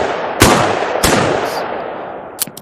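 Gunshots in the Beyond Sandbox video game, two loud sharp reports about half a second apart, each trailing off in a long decay, followed by a quieter quick pair of pops near the end.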